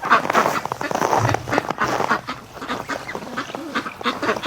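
Ducks and geese wintering outdoors quack and honk repeatedly in a busy, close chorus, with a person talking over them.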